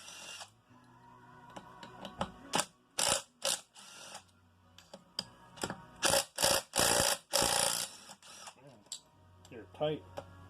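Bolts are worked loose from a Yamaha YZ250 engine case in a run of sharp, close mechanical bursts and ratcheting clicks, separated by short gaps and quieter handling noises.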